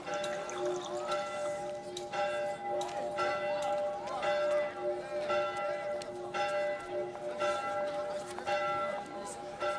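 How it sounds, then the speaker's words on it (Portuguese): Church bells ring steadily in the distance, overlapping tolls blending into a continuous chime with a faint background hum. "Os sinos confundiam os seus toques a chamar os fiéis"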